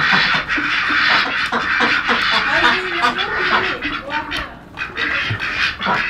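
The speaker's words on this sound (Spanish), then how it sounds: "¡Hay patos!" Ducks quack repeatedly nearby in a noisy cluster, their calls overlapping while people talk excitedly over them.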